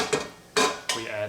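Browning meat and bones being stirred in a pot: three quick scraping strokes against the metal, close and distinct, over a faint sizzle.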